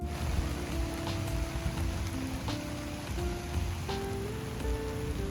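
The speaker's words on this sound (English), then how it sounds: "It's raining at the drive-in theater," Rain patters steadily and softly, a fine continuous hiss of drops with faint low hum beneath and a few brief tonal sounds drifting in and out.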